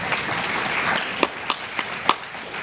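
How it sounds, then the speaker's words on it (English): An audience at a national kidney patient meeting applauds, a soft blur of clapping with a few sharper individual claps standing out toward the end. "You can give them some applause."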